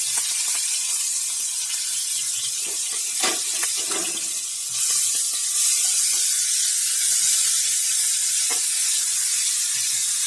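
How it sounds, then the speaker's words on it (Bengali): Turmeric- and salt-coated shrimp fry lightly in hot oil in a kadai, a steady close broadband sizzle lasting throughout, broken by a few sharp crackles and pops. "মাছটাকে হালকা ভেজে নিতে হবে"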